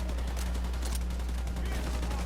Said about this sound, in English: I can keep shooting enemies, going for those sweet headshots